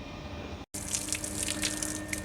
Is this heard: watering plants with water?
yes